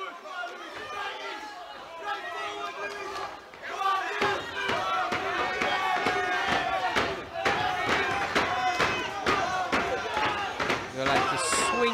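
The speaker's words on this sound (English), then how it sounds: "they shouldn't be banging on the ring like this" Crowd at an amateur boxing show in Dudley bangs on the boxing ring, producing repeated sharp slams and thuds over loud shouting and chatter, close and continuous from about four seconds on.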